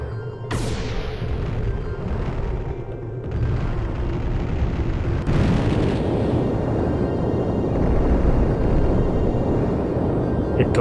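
A video game explosion in Panzer Dragoon Saga on the Sega Saturn: a sharp boom opens, then a long rumbling roar swells and persists, with a second burst midway.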